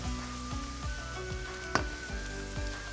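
A spoon scrapes steadily through a sizzling frying pan of filling with garlic, seven-spice blend and cinnamon powder, making about six evenly spaced strokes over a continuous close crackle of frying.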